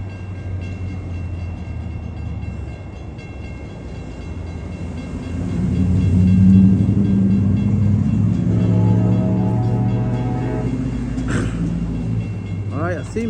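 An Amtrak Capitol Corridor train passes the 105th Avenue level crossing in Oakland, California, with a steady loud rumble and rattle of wheels that swells midway, a crossing bell ringing and a brief squeal toward the end.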